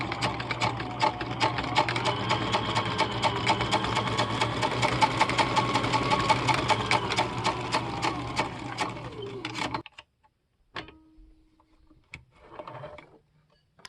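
A restored Husqvarna Viking 6440 sewing machine stitches nylon webbing in reduction gearing mode, a steady loud mechanical whir with rapid needle ticking for about ten seconds, then stopping and a few brief handling clicks.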